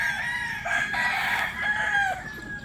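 A rooster in a breeding pen with hens crows and clucks nearby, with several drawn-out, wavering calls layered over soft background chatter from the flock.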